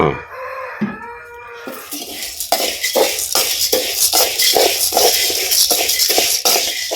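Toor dal dry-roasting on a low flame with a little oil while being stirred nonstop; a brief tonal call opens, then steady rhythmic scraping strokes over a constant roasting hiss.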